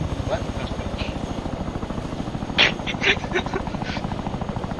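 The new Chinook helicopter in the game Arma 3 thuds with a steady, rapid rotor pulse, loud and continuous, while a few brief higher clanks and noises break in over it.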